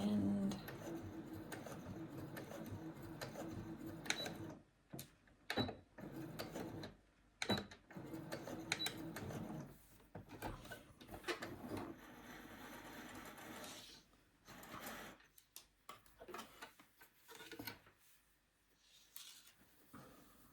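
A sewing machine stitches along a fabric scrunchie in bursts of rapid mechanical whirring, broken by short pauses and quiet handling sounds.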